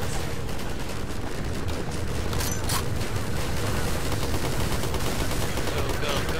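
Continuous gunfire and explosions from a Garry's Mod battle fill the whole stretch, a dense, steady roar of shots with a couple of brighter bursts near the middle.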